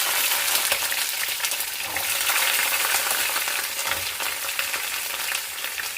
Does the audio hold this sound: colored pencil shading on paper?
no